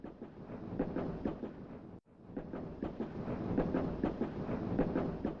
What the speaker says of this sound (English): This is the train I took to go home.